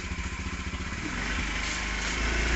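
A motorcycle engine runs close by, its low pulsing idle throbbing rhythmically before rising into a steadier, louder drone toward the end, with no voices over it.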